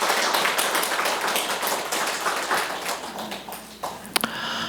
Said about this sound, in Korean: 일어나실 때 격려의 박수 하겠습니다